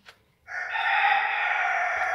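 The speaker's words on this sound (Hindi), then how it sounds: "ये हैं मेरी अयान सुमानी, मुर्गा है, मुर्गियां हैं" An Ayam Cemani rooster lets out a single loud, drawn-out crow at close range, held steady for nearly two seconds after a brief faint sound.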